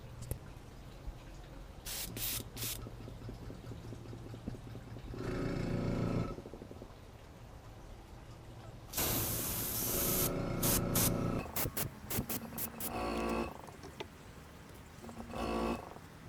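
Airbrush spraying paint onto a handmade wooden bluegill fishing bait, heard as repeated hissing bursts of varying length, some brief puffs and some sustained sprays of several seconds, close and with no talking.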